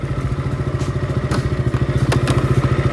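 A motorcycle engine idles after a cold start, its close, loud, steady thumping pulse chugging evenly throughout.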